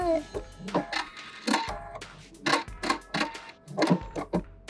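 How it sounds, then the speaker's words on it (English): A sewing machine stitches a quarter-inch seam on a golf club headcover and back stitches at the end, running in short, clattering bursts separated by brief pauses, close and fairly quiet. "sew this up at a quarter of an inch. Don't forget the back stitch"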